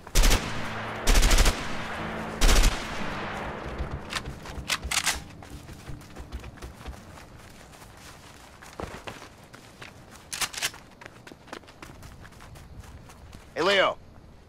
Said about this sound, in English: Let's try the guns. Lots of things to shoot at.